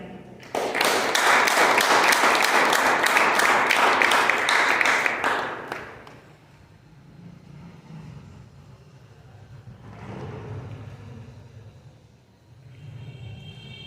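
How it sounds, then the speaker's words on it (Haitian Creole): A crowd claps in a loud, dense burst of applause that fades after several seconds, followed by low room rumble and murmuring. "Applaudissements, frère."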